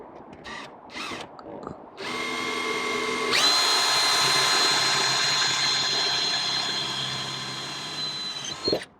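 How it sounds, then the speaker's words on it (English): Power drill boring through the bulkhead of a Land Rover Freelander 2, a few short bursts then a sustained loud whine that climbs in pitch as the bit bites, ending abruptly after several seconds. "I can just about get the drill in there"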